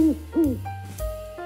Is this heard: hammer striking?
no